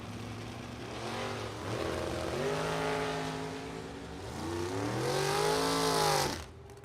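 Bracket drag racing cars, a dragster and a Camaro, launch and accelerate hard at a Super Pro event. Engine tones climb repeatedly through gear changes, then a second wave of revving builds loudly and ends in a sharp cutoff.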